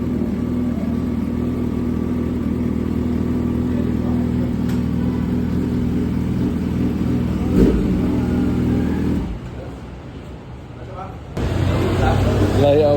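A Yamaha FZ1N 1000cc motorcycle engine runs loud and steady close by while its clutch cable is being adjusted, then briefly drops off before roaring back up near the end.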